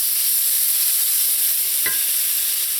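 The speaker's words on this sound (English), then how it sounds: "Give that a mix." Sweet peppers, onions and pineapple stir-frying in a pan, with a loud, steady sizzle throughout and a brief stirring scrape near the middle.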